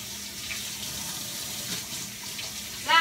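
Tap water runs steadily into a sink as raw chicken livers are rinsed under it for a Lao-style fried liver dish, with a brief louder splash near the end.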